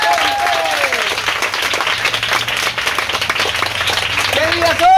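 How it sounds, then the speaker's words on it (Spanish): Children's audience at a clown show clapping loudly and steadily, a dense burst of applause with a few voices and whistle-like squeals mixed in, near and continuous for about five seconds. "quiero un fuerte aplauso."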